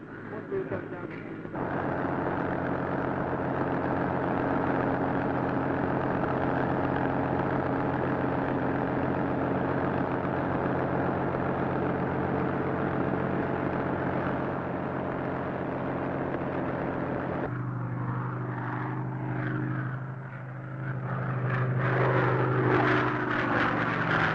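A Supermarine Spitfire's piston engine drones steadily and loudly for a long stretch, then the tone shifts lower and rougher before picking up again near the end.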